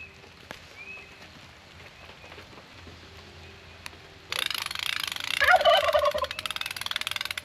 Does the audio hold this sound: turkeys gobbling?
yes